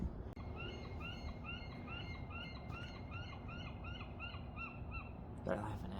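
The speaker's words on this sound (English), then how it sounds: "Do you hear those seagulls laughing at me?" Seagulls give repeated, rhythmic high-pitched calls over a steady outdoor rumble, with no talking.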